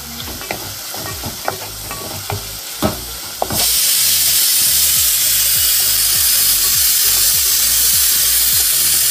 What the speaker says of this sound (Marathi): इकडे कुकरला शिट्टी लागली.